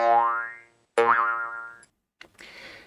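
Two twangy plucked notes, each bending and ringing out briefly, followed by a short scratchy rustle.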